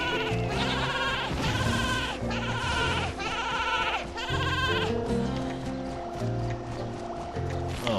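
Sheep bleat repeatedly in Skylanders Giants, loud and close, several wavering calls following one another with little pause.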